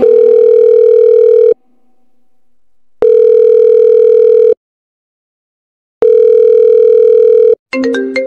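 A telephone dial tone heard while calling someone: three loud, steady buzzing tones of about a second and a half each, separated by silences, ending with a brief clatter.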